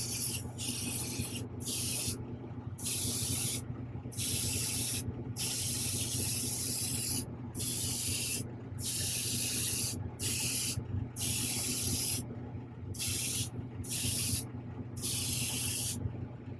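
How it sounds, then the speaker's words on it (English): A spray gun sprays clear coat in repeated long hissing bursts, each pass a loud sustained spray separated by brief pauses, over a low steady hum. "Spraying clear coat."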